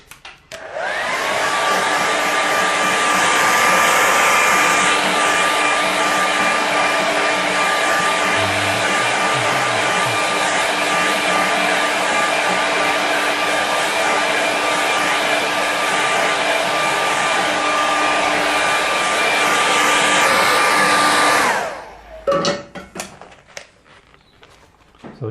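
A hair dryer drying a watercolour landscape painting blows loud and steady at close range for about twenty seconds, then switches off, leaving a few quiet clicks and handling sounds.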